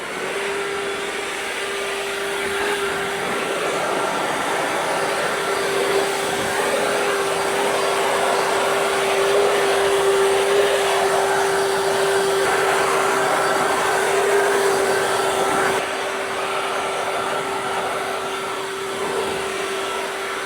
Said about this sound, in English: we're going to dry these wheels off